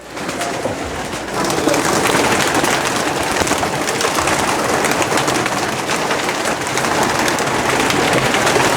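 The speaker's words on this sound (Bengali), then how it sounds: "কবুতর অনেক কবুতর" Many pigeons cooing together in a dense, continuous flock chorus, steady and fairly loud throughout with broad background noise and no talk.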